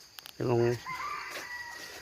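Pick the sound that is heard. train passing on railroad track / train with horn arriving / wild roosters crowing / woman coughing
wild roosters crowing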